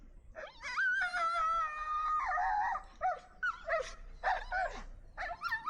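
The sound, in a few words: dog barking aggressively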